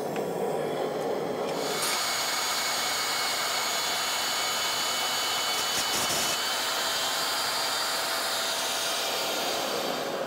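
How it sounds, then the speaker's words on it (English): A metal bandsaw cuts through steel stock for forged display hooks, giving a loud, continuous whining hiss with a steady tone that shifts slightly as the blade bites, close by throughout. "we'll cut this off on the metal bandsaw"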